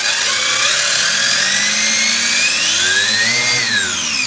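A WLtoys 959 RC car converted to a brushless motor, run at part throttle on a tire bulge test, letting out a loud, steady high-pitched electric whine whose pitch slides up and down slightly.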